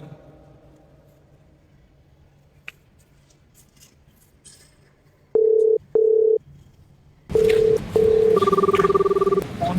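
A phone call rings out unanswered: two short ringback tone bursts over a quiet room, then louder repeated tones with a second higher tone joining near the end.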